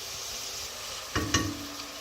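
Ginger garlic paste dropped into hot oil in a pan for egg curry gives a low steady sizzle, broken by two brief louder bursts of stirring and spattering midway.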